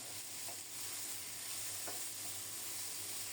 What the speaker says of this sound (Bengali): ফোড়নের সাথে নেড়ে চেড়ে কিছুক্ষণ ঢাকা দিয়ে সবজিগুলো ভেজে নেব।